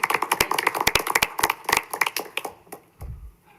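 A small group applauds at a Joliet pre-council meeting with quick, uneven claps that thin out and fade after a few seconds, ending in a soft thump.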